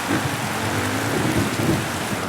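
Heavy rain pours down in the motocross video game MX vs ATV, a continuous dense hiss with a low rumble beneath it, steady and loud for the whole moment.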